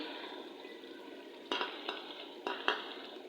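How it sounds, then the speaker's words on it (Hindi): Yogurt goes into a pot of fried masala and meat over a soft, steady sizzle, with a few sharp clinks of a spoon against the pot in the second half. "तो अभी ये मैं इसके अंदर डालने लगी हूँ दही"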